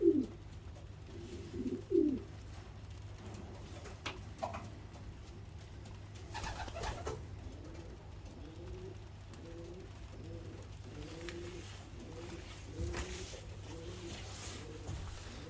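Soft, low cooing from several racing pigeons in a loft, overlapping throughout against a steady low hum and occasional faint rustling.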